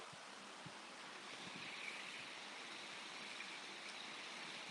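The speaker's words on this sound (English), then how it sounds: "It's real windy today, so if y'all can hear that" Strong wind gusting at a creek in the mountains, a steady broadband roar like surf that holds loud and unbroken throughout, with faint low rumbles and no voices.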